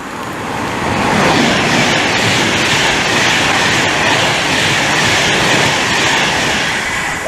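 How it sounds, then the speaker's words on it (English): Virgin Pendolino class 390 train passing through Milton Keynes Central station, a loud sustained rush of wheels and rail noise with faint clickety-clack that swells and holds for several seconds, close to the platform. "That's 390-155. They sound amazing. Pendolinos are amazing"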